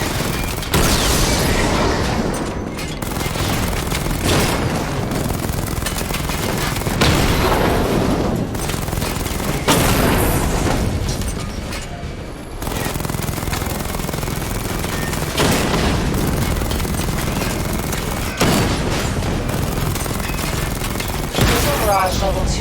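The Batman: Arkham Knight Batmobile's secondary weapon fires sustained, loud barrages of rapid gunfire and booming blasts, broken by a few short pauses, with faint voices heard under the din.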